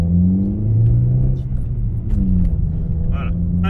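Peugeot 406 pulling away from a stop, a loud close engine rumble rising and shifting in pitch as it revs, with a voice talking over it.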